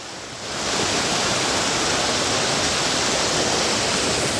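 Rushing water pours from a tall forest waterfall, a dense, loud, unbroken roar that swells in after a brief quieter opening and then holds steady with no voices.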